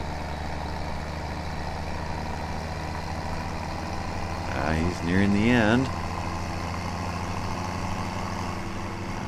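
A small tractor in Farming Simulator 17 hums with a steady engine drone throughout, while someone talks briefly over it partway through.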